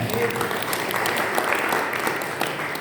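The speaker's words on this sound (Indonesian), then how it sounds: "beri aplaus untuk mereka semuanya" A church congregation at an Indonesian Independence Day Sunday service at GPPS Kaliasin applauds, with dense, steady clapping throughout and a faint murmur of voices underneath.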